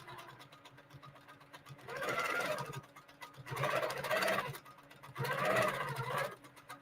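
Sewing machine quilting polka dot fabric in three steady bursts of stitching, each lasting about a second, close and moderately quiet with short pauses between them.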